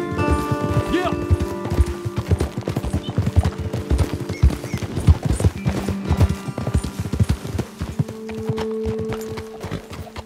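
Horse hooves clip-clop steadily in Red Dead Redemption 2, several horses moving together at a brisk pace close by, with voices talking over the hoofbeats and an occasional whinny.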